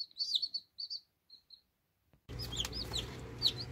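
High, thin peeping of newly hatched chicken chicks in a home incubator, a few scattered cheeps over near-silence, then continuous peeping over a low rumbling background.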